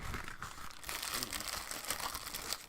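A bag of Cool Ranch Doritos is crinkled and handled close by, giving continuous bright crackling rustles with a brief tearing-like burst partway through.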